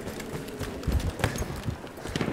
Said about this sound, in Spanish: aquí hay un caballo